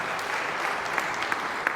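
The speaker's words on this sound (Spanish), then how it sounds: "Un fuerte aplauso entonces" An audience in a church gathering applauds steadily throughout, a dense wash of many hands clapping at moderate loudness, with a few sharper claps standing out near the end.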